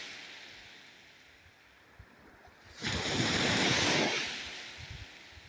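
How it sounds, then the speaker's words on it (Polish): Sea waves on a beach as the tide comes in, a steady wind-blown wash of surf that swells into a loud, close crash midway before easing back, with no talk. "Ale fale, chyba przypływ idzie."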